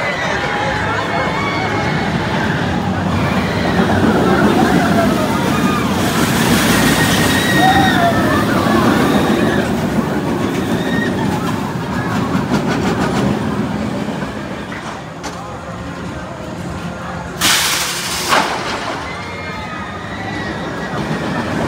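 A Boomerang roller coaster train at Six Flags New England rumbles and clatters along its track, loud and continuous, with riders' voices and crowd babble mixed in and a sharp rush of noise near the end.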